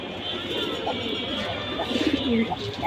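Silver-colored domestic pigeons coo softly in a loft, low throaty calls repeating over a steady background hum, close by with faint human voices mixed in.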